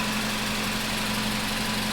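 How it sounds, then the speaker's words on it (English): A car engine idles steadily and loudly up close, a smooth continuous hum with even low pulsing and no one talking. "if you hear the engine right now, it sounds not too bad."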